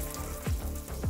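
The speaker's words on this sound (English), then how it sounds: "It's extremely important when you cook the smoked lard to cook it on low heat." Smoked lard fries gently in a pan on low heat, a close, even sizzle with a few short sweeping accents.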